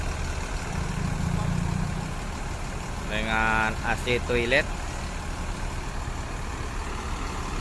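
A front-engined Mercedes-Benz 1823 bus with a Discovery Panorama SR3 body idles with a steady low rumble throughout, while someone speaks briefly in the middle.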